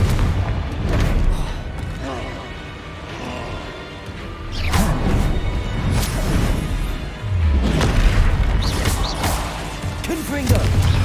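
Repeated Confringo explosive spell blasts in Hogwarts Legacy land as loud booms and crashes with whooshing trails, several heavy impacts over a constant rumbling game soundscape, with a voice heard at times.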